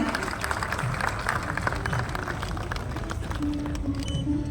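Applause from an audience at a government ceremony where a chief minister hands over cheques to municipal corporations, a steady, full wash of clapping from a large crowd that carries on evenly for several seconds.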